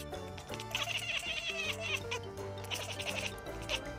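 A domestic cat gives short chirping calls, several quick high trills repeated over a few seconds, close and fairly quiet, with no talk over them.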